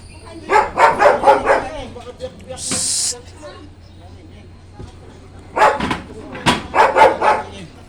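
A dog barks in bursts of several quick barks, near and loud, during gate welding work, with a brief hissing noise in between and quiet pauses.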